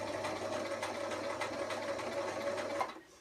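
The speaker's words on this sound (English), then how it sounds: "at this point we will be sewing across the bias of the fabric" A sewing machine runs steadily, stitching a fabric panel across the bias, a close, even mechanical whir that stops abruptly near the end.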